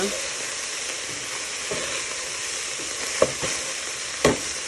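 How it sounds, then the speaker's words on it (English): Steady broadband sizzling of chili frying in a pan, with a few sharp clicks and scrapes of stirring near the end. "you're going to start hearing it sizzling a lot more"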